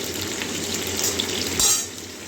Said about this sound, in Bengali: তেল গরম হয়ে গেছে, ভেন্ডিগুলো দিয়ে দিচ্ছি, ভেজে দিচ্ছি